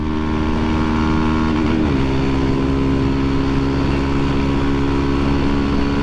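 A Honda Fan 150 Mix motorcycle with a newly built engine hums steadily while being ridden. There is a continuous close drone with a brief pitch shift near two seconds, and no talk.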